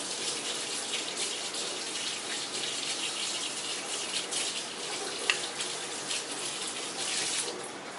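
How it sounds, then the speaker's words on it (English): Running tap water pours steadily while a spoon is rinsed off, a continuous bright splashing stream close to the sink with no talking. "wash off this spoon."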